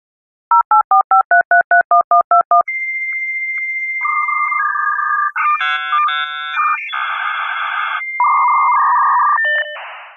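An old dial-up modem connects: a run of rapid dialing beeps, then a steady tone followed by shifting screeches, warbles and buzzing handshake tones, loud and close with no voices.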